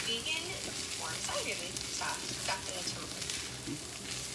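Sausage-style tempeh and vegetables frying in a pan, a steady crackling sizzle with intermittent stirring scrapes, close and fairly soft, with no talking.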